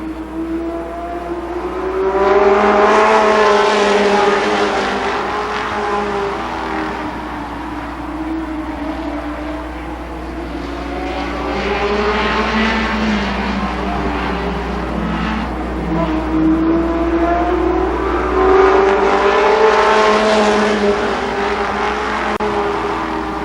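Race cars roaring around the oval at Columbus Motor Speedway during the Nuckles Memorial race in 1992, engines swelling loudly as a pack passes, easing, then surging again near the end, with no voices heard.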